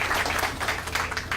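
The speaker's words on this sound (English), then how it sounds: "Give a big round of applause there for Kathleen." Audience applause at the National Ploughing Championships Lady Farmer of the Year final, a steady close burst of clapping from a crowd lasting the whole moment.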